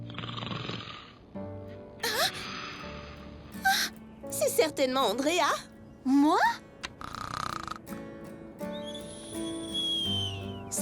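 Exaggerated cartoon snoring from girls at a sleepover in an animated Lego Friends episode comes as several rough snorts and wheezes, with brief speaking voices before it.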